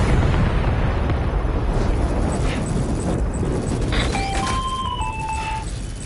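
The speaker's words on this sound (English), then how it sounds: "Watch out, Sam. Opening fire" Gunfire and explosions in the video game Death Stranding 2, a dense continuous roar of blasts and rumble with a few brief electronic beeps and tones near the end.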